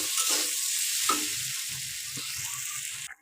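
A spice mixture for a Bengali fish curry made without ground paste cooks down in a pan, giving a soft continuous sizzle with a few light stirring taps, near and without speech, cutting off at the end.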